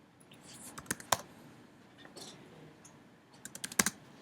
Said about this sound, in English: let me manually type it